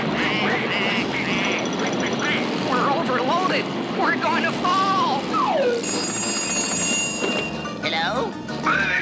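Cartoon ducks quack repeatedly in a busy, loud scene, with aircraft engine noise and voices talking over the quacks.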